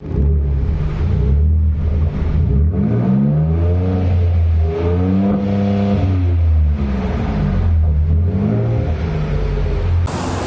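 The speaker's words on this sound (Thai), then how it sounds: "ตัวนี้จะเป็นท่อของแรปเตอร์นะครับสามารถปรับเสียงได้ทั้งหมด 4 ระดับเลยนะคะ" Ford Raptor pickup with a V6 twin-turbo engine and an adjustable four-mode exhaust revs repeatedly, loud and close, with rising and falling engine pitch over a steady idle rumble.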